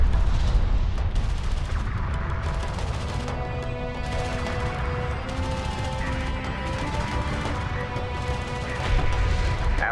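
Gunfire and artillery in the strategy video game Homeworld: Deserts of Kharak, a dense, continuous battle din of shots and blasts layered over game music.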